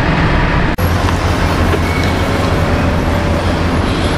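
A 1981 Ford LTD with a 5.8-litre 351 Cleveland V8 driving along, a loud steady engine drone and road rumble from inside the car, with a single brief click early on and no talk.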